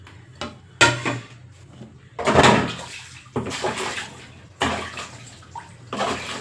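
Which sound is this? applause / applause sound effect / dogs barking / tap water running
tap water running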